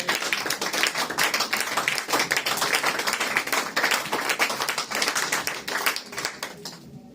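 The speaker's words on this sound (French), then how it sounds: "Acclamez pour Jésus" A church congregation claps rapidly and continuously for Jesus, with dense, loud, overlapping hand claps and some cheering, then fades toward the end.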